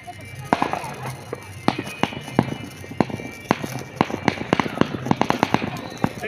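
Firecrackers burst loudly and repeatedly in quick, irregular sharp bangs, some very close and punchy, while people talk in the background.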